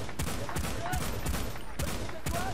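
In Battlefield Bad Company 2 Vietnam, incoming gunfire arrives as repeated sharp bursts of shots at an uneven pace. It sits moderately far away and fairly faint, over a constant background rumble.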